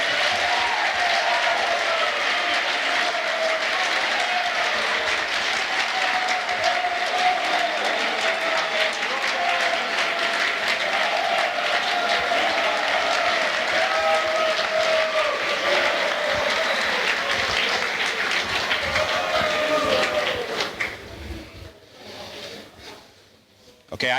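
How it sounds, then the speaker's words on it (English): Large audience at a justice summit applauds as the Mayor of Toledo is welcomed, sustained loud clapping with crowd murmur and voices mixed in for about twenty seconds before it drops away abruptly. "I've been applauded enough to know that that is an unnatural level of applauding"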